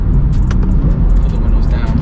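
BMW M4 with a catback equal-length titanium exhaust in sport mode, a steady loud engine drone heard from inside the car, with a person's voice over it.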